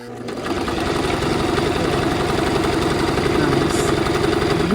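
A domestic sewing machine stitches a zigzag in one continuous close, even mechanical whir with a rapid rhythmic chatter, starting up and running steadily without a pause.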